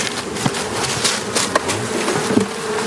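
Honey bees buzz around an open hive during a spring inspection in the bee yard, a steady close drone with brief louder passes and light handling knocks now and then.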